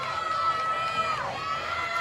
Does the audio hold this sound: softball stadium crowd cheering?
yes